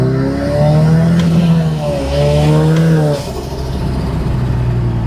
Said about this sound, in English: I'm just driving around in circles at slow speed.